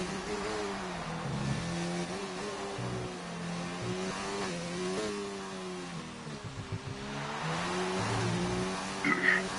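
An F2 race car at the France round, heard on board: a loud, steady engine note rising and falling through gear changes and throttle lifts, with brief dips and a short squeal near the end.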